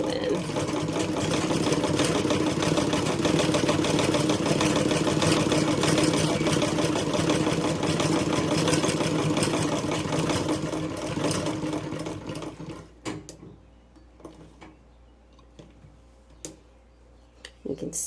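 A Davis vertical feed sewing machine runs steadily at close range for about twelve seconds, a dense mechanical whir with ticking, then stops, leaving a few faint clicks and knocks.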